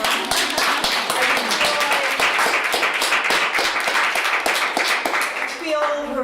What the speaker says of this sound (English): I just want to follow up that applause.